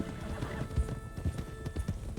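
A small herd of horses, five of them, runs in tandem in Red Dead Redemption 2, the clip-clop of hooves pounding in a quick overlapping rhythm near the listener, with a faint neigh now and then.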